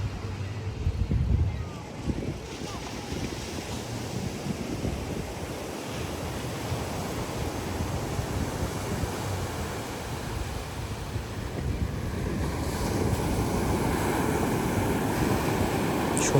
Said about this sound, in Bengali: সমুদ্রের এই আওয়াজ